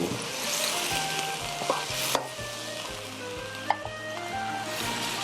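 Water poured into a pan of sizzling chicken and egg tofu, a mapo-style dish, sets off a loud, continuous close-up sizzle and hiss, with a few sharp clinks of a spatula against the pan.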